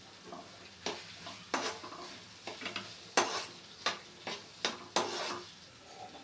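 Khoya being stirred in a pan with cardamom powder, cashews, almonds and pistachios, a series of close spoon scrapes and soft knocks at an uneven pace over a quiet sizzle.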